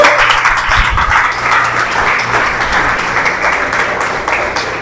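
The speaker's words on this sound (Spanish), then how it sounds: "Aplauda al Señor." A church congregation claps and applauds continuously for several seconds, a dense, even patter close at hand.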